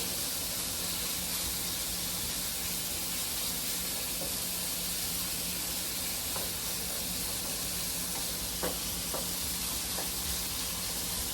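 Shrimp fry in a hot pan for a spicy Cajun meal, giving a steady, fairly quiet hiss-like sizzle with a few small crackles and pops toward the end and no talking.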